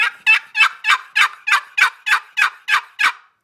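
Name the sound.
turkey mouth call imitating a raspy hen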